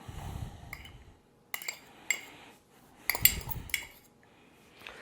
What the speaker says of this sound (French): Je vais mettre mes champignons.